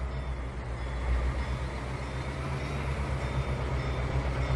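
A train pulling forward in the simulator Trainz 2019, giving a steady, continuous rumble and rolling drone throughout with faint high tones, with no voices.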